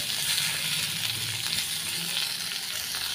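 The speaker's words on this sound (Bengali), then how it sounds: "নুনটা দিয়ে ভালোভাবে নেড়ে চেড়ে মিশিয়ে দেব" Salt stirred into food frying in a pan for a home-style Bengali dish, with a steady close sizzle and faint scraping of stirring running throughout, no talk.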